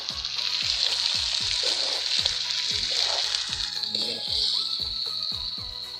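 Meat curry with spices frying in a pan, a steady close sizzle with a regular series of soft knocks from stirring, alone without talk.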